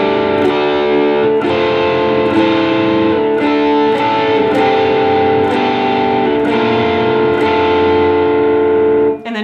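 Guitar in DADGAD tuning plays a riff, loud and distorted, with a steady repeating pulse of ascending notes over a droning low string, played alone without talk.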